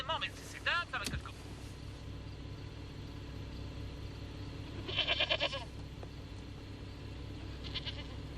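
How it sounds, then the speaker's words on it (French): A goat bleats in short wavering cries at the start, again louder midway, and once more faintly near the end, over a steady low engine-like hum in a French comedy film scene. "C'était une chèvre?"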